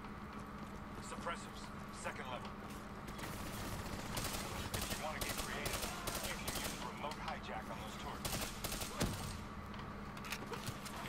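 Bursts of automatic gunfire and scattered shots from the Black Ops 3 campaign crackle steadily under a layer of game noise, while a person talks over the shooting.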